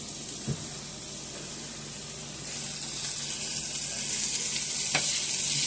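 Chicken and shrimp fry in a pan with a constant bright sizzle that grows a little louder partway through. A few faint knocks and stirring sounds come through, with no speech.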